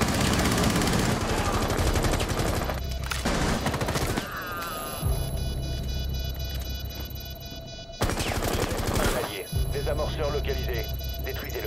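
Rapid automatic gunfire from a video game bursts loudly in long fusillades, cut by brief pauses, while players talk excitedly over the shooting.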